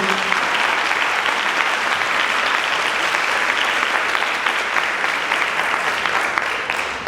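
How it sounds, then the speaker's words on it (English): An audience at a parent summit interview claps in loud, sustained applause that holds steady for several seconds before easing off slightly at the end. "One more round of applause"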